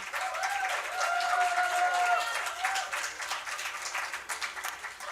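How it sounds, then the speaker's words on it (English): Applause from an audience, steady clapping that swells and then thins out, with a few voices calling out over it. "A big round of applause for Mr. JP Singh."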